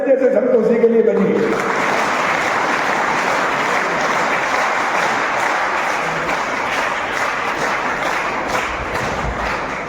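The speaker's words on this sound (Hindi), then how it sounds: "इनके लिए भी जोरदार ताली उसी प्रकार बजे" An audience at a public event claps loudly in sustained applause, dense and close, following a brief bit of speech at the start and carrying on steadily to the end.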